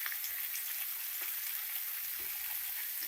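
Tomatoes frying in a pan while cooking matar paneer, giving a steady, even sizzle with a soft hiss throughout, alone without talk.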